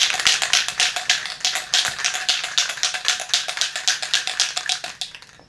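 Rapid rhythmic metallic rattling of a spray paint can being shaken hard, steady clacks about six per second, close and loud, ending abruptly.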